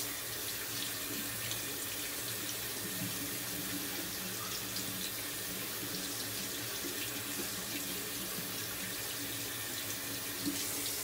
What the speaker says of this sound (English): Just running it under some water there